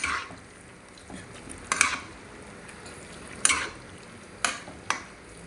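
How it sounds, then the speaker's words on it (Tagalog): Ground beef and sautéed vegetables being stirred in a pan, with a soft steady sizzle and several sharp utensil scrapes and clinks against the pan at irregular intervals. "Then haluin lang po natin mga boss chip"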